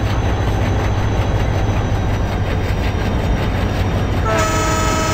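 A WDM3D diesel locomotive hauling a goods train in an Indian train simulator game rumbles steadily with a dense, continuous engine and wheel roar, and a sustained horn tone enters near the end.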